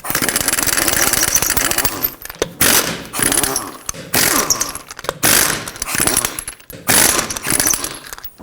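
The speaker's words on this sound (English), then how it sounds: "continue with your impact or tool of choice, 21mm socket, remove all the rest of your lug nuts" A pneumatic impact wrench with a 21mm socket zips lug nuts off a 2012-2017 Toyota Camry front wheel in loud, close rattling bursts, each burst separated by a brief pause.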